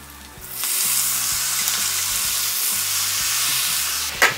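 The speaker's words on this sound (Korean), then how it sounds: "맛있게 튀겨지고 있습니다" Chili peppers deep frying in oil make a loud, steady sizzle and crackle that continues throughout, ending with a brief louder spatter.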